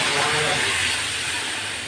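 Water poured into a hot pan of fried dried Bombay duck (loitta shutki) bursts into a loud, dense steam hiss that holds steady and eases off slightly, close up and alone.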